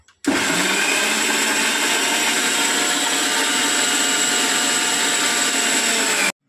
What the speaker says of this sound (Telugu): మిక్సీ పట్టేసుకున్నాం